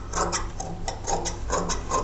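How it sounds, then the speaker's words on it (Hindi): Scissors cut through stitched blouse fabric, giving a series of close, crisp snipping and rasping strokes in an uneven rhythm over a low steady hum, with no voices. "अब इसकी हम कटिंग कर लेंगे।"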